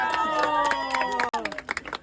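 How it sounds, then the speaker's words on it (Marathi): A group claps to honour a friend at a Satyanarayan puja gathering, with irregular claps mixed into a busy crowd and voices talking and singing. "टाल्या टाळ्या"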